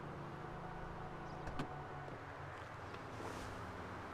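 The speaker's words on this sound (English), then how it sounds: "listen to how the car sounds" A low, steady car engine hum from the video game GTA 5 Online with a faint whirring motor, joined by a brief mechanical clunk partway through.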